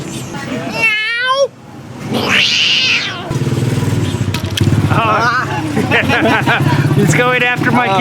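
A cat meows repeatedly: a couple of drawn-out meows near the start and more toward the end, close and fairly loud over a busy, noisy background.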